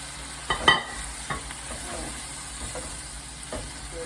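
Pork and wild neem shoots stir-fried in a pan over high heat: a steady sizzle with a few sharp scrapes and clanks of the spatula early on, then softer stirring scrapes, with no one talking.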